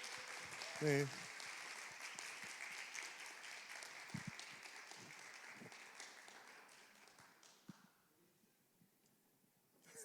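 A church audience claps to welcome a newcomer to the young adults' group, a sustained round of applause that gradually fades and dies out near the end, with a brief spoken word near the start.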